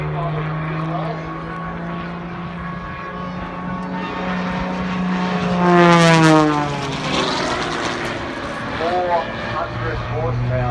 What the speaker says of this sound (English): You can hear the sound of the wind going through the flying wires there